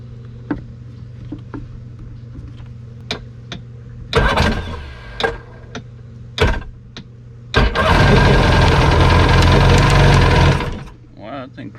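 An old, long-neglected jet ski engine cranks in short bursts, catches and runs loudly for a few seconds, then dies, with quieter clicks and a low hum in between.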